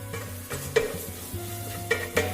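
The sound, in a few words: stirring spice powders into cooking tomatoes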